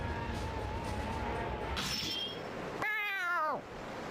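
A cat in the video game Bravely Second goes wild with a sharp, wavering yowl near the end, over busy game music and effects.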